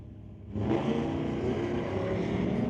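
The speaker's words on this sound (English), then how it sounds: "takes up the Four Cycle Customs dart to race Steve Baskerville in the Volkswagen Golf R with that 2-liter turbo engine." A Volkswagen Golf R with a 2-liter turbo engine launches at a drag strip, the engine note swelling suddenly into a loud, steady roar that holds without any talk over it.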